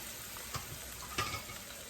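Onion, garlic, ginger-garlic paste and curry leaves fry in hot oil with a faint, steady sizzle, broken by two brief stirring scrapes.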